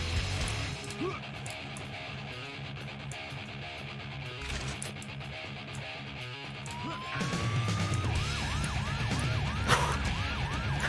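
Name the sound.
siren in video game Painkiller Hell & Damnation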